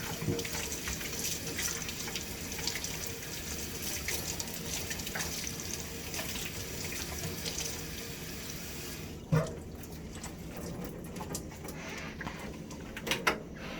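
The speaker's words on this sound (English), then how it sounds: "After you've cleaned, rinse your mask." A respirator mask is rinsed under a running sink tap, a steady faint hiss of flowing water that shifts and quiets partway through, with a couple of small knocks near the end.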